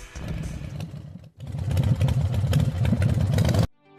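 A motorcycle riding on a road near the coast approaching Gokarna, its engine rumbling close and steady with a short dip around the first second, then continuing strongly before cutting off abruptly near the end.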